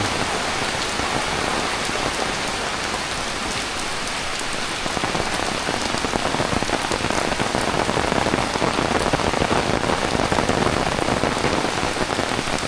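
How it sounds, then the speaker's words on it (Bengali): Heavy rain pours down steadily in a village, a dense, continuous hiss of drops on surfaces that grows a little louder midway, with no voices. "এই দেখো কত বৃষ্টি রে"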